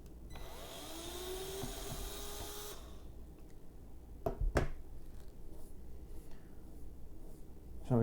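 A threaded valve is backed out of a tapped hole with a reversing power driver, giving a steady whirring drive for a few seconds that stops, followed by a couple of sharp clicks and quiet handling noises.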